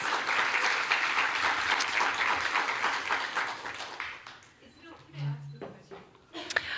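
Audience at a White House forum on Asian American and Native Hawaiian and Pacific Islander mental health gives a sustained round of applause that tapers off, followed by a speaker's voice over the fading claps.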